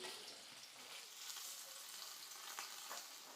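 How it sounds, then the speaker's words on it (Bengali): Steady crackling sizzle of bele fish frying in hot oil, a dense hiss with scattered pops, fairly faint and close, no voices. "কড়াইতে তেলটা গরম হয়ে গেছে, এবার আমি মাছগুলো ছেড়ে দেবো।"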